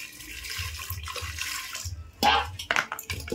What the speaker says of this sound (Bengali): জল দিয়ে দিচ্ছি দেখুন,